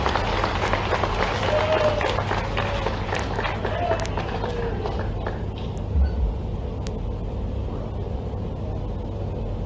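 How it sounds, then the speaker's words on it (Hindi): Loud, sustained applause fills a hall at a government employees' felicitation ceremony welcoming Chief Minister Dr. Mohan Yadav, with a voice over the clapping and a low steady hum underneath. "तालियां जोरदार पीछे से"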